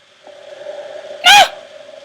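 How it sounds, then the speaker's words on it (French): Eerie droning video game cave ambience with a steady, hollow hooting tone, broken midway by a brief louder swell of airy noise before settling back. "celui-là c'est le bruit quand on est dans les cavernes"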